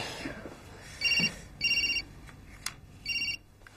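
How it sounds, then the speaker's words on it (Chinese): A telephone rings indoors in three clear electronic bursts with short gaps, fairly close and alone, with faint room noise between rings. "你的电话。 哎，你帮我接吧。"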